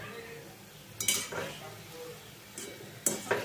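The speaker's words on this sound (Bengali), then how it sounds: "এগুলোকে উল্টে পাল্টে দেব নইলে এক পিঠ বেশি ভাজা হয়ে যাবে" Langcha sweets frying over a low flame in a pan and being turned over, with a few sharp utensil clinks and scrapes above a faint, soft sizzle.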